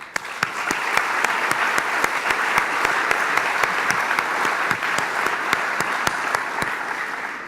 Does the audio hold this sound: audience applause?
yes